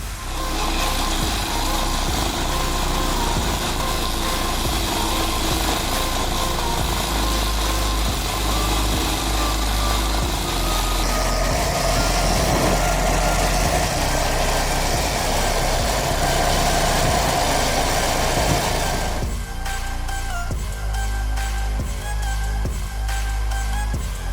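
A compact stump grinder's 13-horsepower engine runs continuously at high revs, loud and close, with a shift in pitch partway through and no talking.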